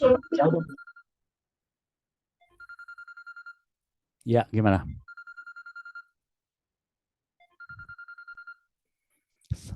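A phone ringtone sounds during an online class, repeating in short, evenly spaced electronic bursts between stretches of a person speaking nearby.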